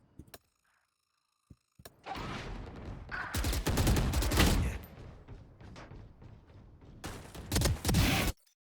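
Gunfire in Valorant, a Phantom rifle firing in quick rattling bursts with loud, dense volleys, preceded by a few isolated clicks and thumps.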